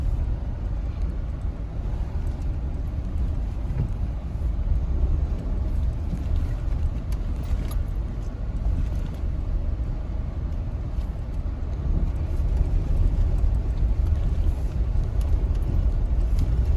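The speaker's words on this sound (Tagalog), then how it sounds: "Napasubo yung kotse niya." A car crosses a river on Kennon Road, its engine a continuous low rumble mixed with sloshing water, steady and close for the whole stretch.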